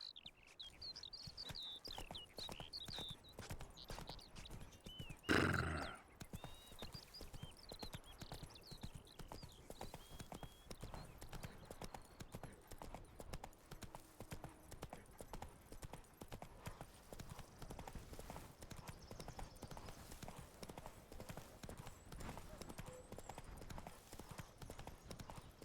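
Horse Roach's hooves clip-clop steadily in a quick trotting rhythm through a fantasy game world, close and continuous, with faint birdsong and ambient wind behind and one sharp louder knock partway through.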